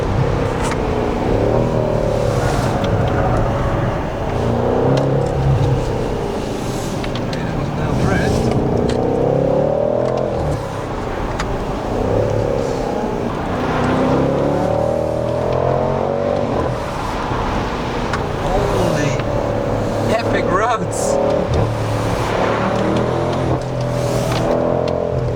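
A heavy BMW M550i xDrive sedan drives and accelerates, its engine note climbing and falling in repeated surges over steady road and wind noise while someone talks throughout.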